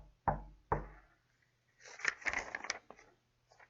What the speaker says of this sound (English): He had just closed his eyes when there was a knock at the door.